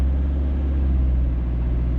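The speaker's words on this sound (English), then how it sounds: "I'm going to put a bit of gas on, so you notice a little bit of engine noise" A manual car, just started and in first gear, with a steady low engine drone that rises slightly as gas is applied while it sits poised to pull away. No talk, close and continuous.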